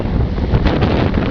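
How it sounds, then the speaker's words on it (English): Ocean waves wash in at Lawrencetown Beach, a close, loud, rushing wash buffeted by heavy wind noise, with no voices over it. "Here, wave. Come on in."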